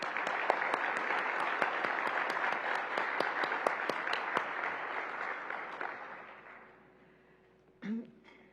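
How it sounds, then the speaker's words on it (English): An audience at a hospitality and tourism summit applauds with loud, dense clapping that fades out over several seconds, followed by a brief throat-clear-like sound. "Please join me in giving her another round of applause."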